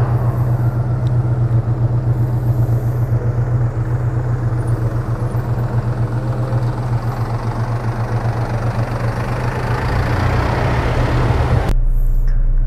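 Opel Blazer army-style SUV engine being revved from inside the cab, a steady loud low rumble with repeated throttle pulses, continuous and close, cutting off near the end.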